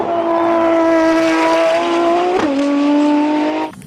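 Race car engine note, likely a sound effect, a loud steady high-pitched whine with a brief pitch dip and squeal midway before cutting off abruptly.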